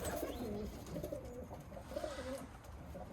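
Pigeons crowded into a loft of about 48 birds coo softly in overlapping low, rolling calls, several voices repeating at close range against a quiet background with light rustling.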